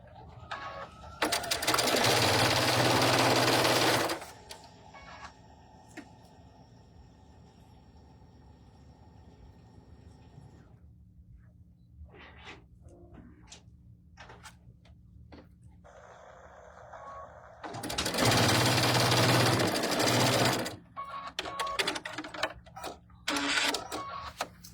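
A sewing machine stitching a quilt block for a sampler quilt, with two loud, steady runs of rapid whirring separated by a long stretch of quieter handling sounds and clicks.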